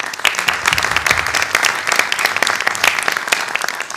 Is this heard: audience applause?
yes